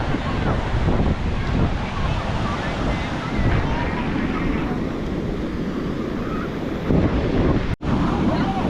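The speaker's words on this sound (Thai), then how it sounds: "นี่คือทะเลศรีลังกา" Sea waves wash onto a beach in Sri Lanka during the low season, a steady, loud roar of surf mixed with wind buffeting the microphone throughout.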